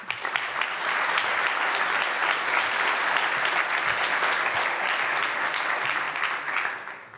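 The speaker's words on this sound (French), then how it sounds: "Applaudissez-la, Vanessa." An audience applauds a speaker at a talk, a close, dense burst of clapping that swells at once, holds steady for several seconds and fades out at the end.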